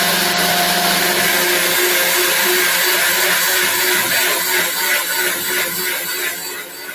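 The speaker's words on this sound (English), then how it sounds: "lid on and blend" A blender whirs loudly and steadily as it blends a green sauce, its motor roar holding for several seconds before easing slightly toward the end.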